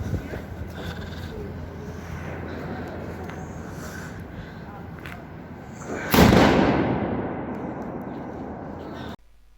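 A Titan 1 firework on New Year's Eve bursts with one loud boom about two-thirds through, its rumble decaying over several seconds after a stretch of steady outdoor background noise.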